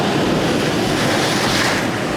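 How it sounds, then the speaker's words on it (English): Ocean waves break on a rocky shoreline at Point Mugu, a loud, steady roar of surf with wind rushing close to the microphone throughout, no voices. "big waves."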